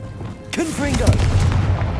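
A Confringo blasting spell explodes in the Hogwarts Legacy video game: a sudden loud boom with a crackling burst and a rumbling tail, with spell-casting effects and a voice shouting over it.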